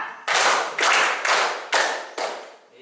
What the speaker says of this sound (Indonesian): Tepuk pagi, siang, malam